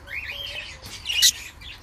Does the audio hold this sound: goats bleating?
no